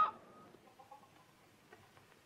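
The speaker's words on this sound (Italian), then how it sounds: "C'è una gallina grassa." A fat hen gives a few short, faint clucks over a quiet background, with brief soft calls spaced irregularly in a World War I film scene.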